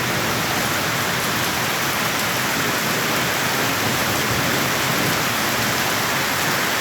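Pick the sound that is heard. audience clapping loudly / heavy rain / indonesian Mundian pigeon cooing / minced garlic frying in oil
heavy rain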